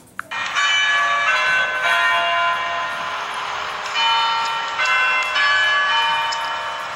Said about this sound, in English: The bell in the clock tower of the cathedral tolled twice.